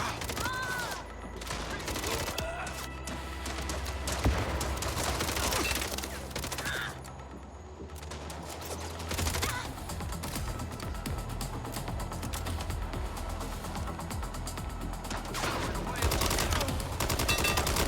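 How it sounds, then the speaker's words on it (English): Rapid automatic gunfire from the video game MindsEye rattles almost continuously in dense bursts, loud and busy, with a short lull partway through. "I'm letting the recoil of this gun do all the work for me."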